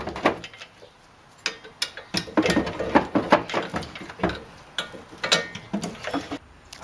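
A ratchet turns the top strut mounting bolts while a Monroe Quick-Strut is fitted at the rear, giving bursts of rapid close clicking and ticking with short pauses between runs.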